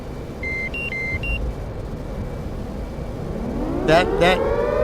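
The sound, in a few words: cockpit warning buzzer in DCS F/A-18C Hornet video game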